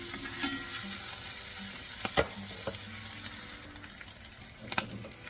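Bacon sizzles in a frying pan, a close, steady crackling hiss with occasional louder pops and a few stirring scrapes, no voices.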